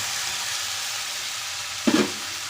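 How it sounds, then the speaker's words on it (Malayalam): Continuous sizzle of cooked tomatoes in a pan, broken near the end by a short burst as chopped spinach drops in and hisses up. "ഇനി നമുക്കതിലേക്ക് നമ്മൾ അരിഞ്ഞു വെച്ചിരുന്ന പാലക് ഇട്ട് കൊടുക്കാം."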